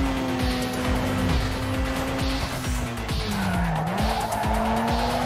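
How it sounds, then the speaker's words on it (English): A car drifts with a long, loud tire squeal in Need for Speed Underground 2, the squeal wavering in pitch over a steady engine roar, with bursts of skidding. "That was a good drift."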